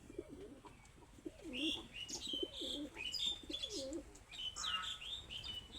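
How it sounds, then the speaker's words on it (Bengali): Pigeons in a pigeon house give soft, low cooing calls in repeated rolling phrases, with a few higher chirps above, fairly quiet and close with no talking. "আমার এই একটা কবুতরের ঘর, এই ঘরের ভিতর টোটাল 16 পিস কবুতর আছে।"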